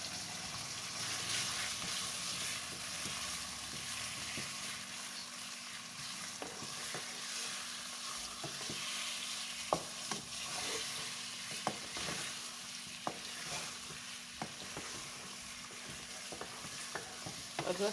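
Ginger garlic paste frying and being stirred in a pan for a chicken and bottle gourd curry, a steady sizzle with scattered sharp clicks of the spoon against the pan, alone and without talk.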